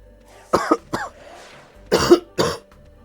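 Several harsh coughs come in two quick bursts, close and fairly loud, separated by a brief raspy breath.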